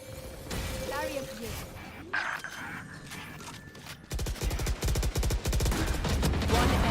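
Pistol shots from a Classic sidearm in a Valorant tournament match, with scattered sharp reports early on and then a dense run of rapid shots near the end, heard under a caster's voice.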